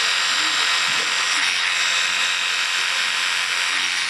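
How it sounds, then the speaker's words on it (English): Electric shaver buzzing continuously as it cuts a customer's hair at a barbershop, a steady close-up whir with faint muffled voices underneath. "before I use the shaver to get it short enough that the shaver actually catches the hair and can take it off"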